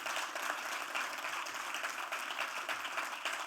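A crowd gives sustained applause to welcome a world champion, an even, continuous patter of clapping heard faintly from a distance with no talking.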